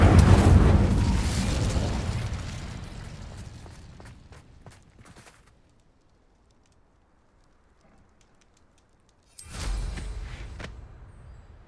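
Incendio fire spell in Hogwarts Legacy, a loud roaring blast that fades out over several seconds, then near silence before another sudden burst.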